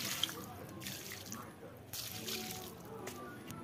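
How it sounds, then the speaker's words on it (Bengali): Water splashes and trickles as potted plants are watered at a Bengali home, a soft, uneven pouring that rises in brief surges and stays faint and close throughout. "গাছগুলোতে সব জল দিয়ে দিচ্ছি।"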